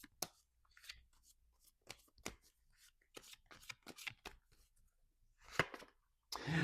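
Tarot cards being shuffled during an astrology reading, heard as a string of crisp papery riffles and flicks in irregular bursts, close and fairly quiet, with a fuller flurry near the end and no talking.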